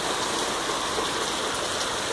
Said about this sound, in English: it's hailing and raining